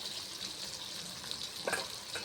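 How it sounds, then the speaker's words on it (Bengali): Pointed gourd fries in oil, sizzling steadily in a pan, a constant frying hiss with a brief clatter partway through; no voices. "পটলটা একটু হালকা ভাজা হতে থাক"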